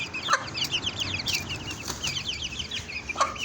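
Chickens and roosters clucking nearby in a farm setting, with overlapping short chirpy clucks and a few sharper calls over a steady background murmur.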